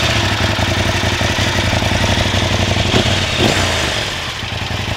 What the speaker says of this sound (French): Il y a une option sur la moto, c'est ça, c'est le silencieux Remus. Ça lui fait faire un petit bruit,